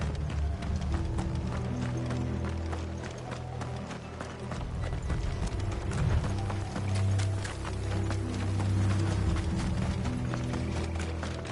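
Horse hooves in a video game pound in a fast, continuous galloping rhythm, loud and close, with rattling and creaking over a low rumble.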